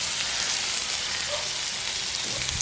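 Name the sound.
onions sautéing in a pan for ash gourd curry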